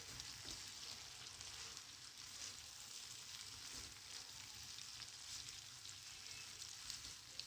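Chicken chow mein sizzles steadily in a frying pan as it is stirred, a continuous close, soft frying hiss with faint scraping, no talking.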